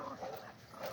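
A dog gives a brief, somewhat muffled bark and whimpering yip at moderate distance, a short burst of vocal sound over background noise.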